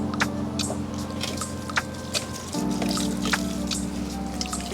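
Liquid feed poured onto turnips in a garden, a steady trickling and splashing stream that runs throughout against a constant low background hum, with faint drips standing out.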